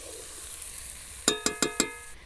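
Raw mango pickle with sugar stirred in a pan over very low heat for a sweet-sour-spicy preserve: a quiet sizzle, then four sharp, evenly spaced spoon knocks against the pan near the end.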